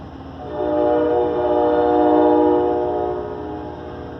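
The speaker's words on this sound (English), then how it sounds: "As the train departs" An Amtrak train departing a station between Los Angeles and Oakland: low rumble swells and fades over a few seconds, with a steady tonal horn-like drone on top, a sense of rail movement.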